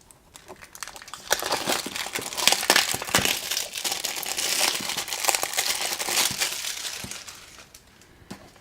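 A Xiaomi Yi action camera being unboxed, its packaging crinkling and rustling up close for several seconds before fading out, with no talking.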